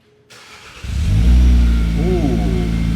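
A Nissan Kicks SEMA 2024 build with a new muffler cranks and fires up after a brief quiet moment, settling into a loud, deep, steady idle rumble while a voice briefly exclaims over it.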